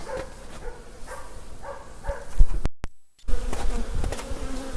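A steady, droning buzz of many honeybees close by at a hive, broken by a brief dropout, with a dog barking faintly in the distance.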